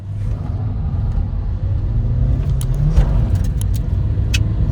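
Hyundai i20 and Suzuki Swift Dzire diesel cars in a roadside drag race, heard as a loud, steady engine drone and rumble up close, with faint jingling and clicks near the end.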